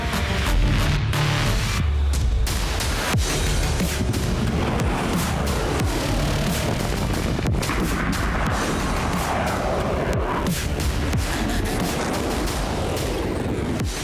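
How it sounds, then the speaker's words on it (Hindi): A warship blows apart at sea in a huge blast, heard as a dense, continuous roar of booming and crackling explosions that stays loud and unbroken throughout. "अचानक ही हलचल हुई और फिर समंदर में जोरदार धमाके के साथ युद्धपोत के परखच्चे उड़ गए"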